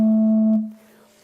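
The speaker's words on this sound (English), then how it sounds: "here's another one of those California sugar pine flutes made in about 1925" A California sugar pine flute organ pipe from around 1925 sounds one steady, pure tone for about half a second, then cuts off and leaves a short room decay.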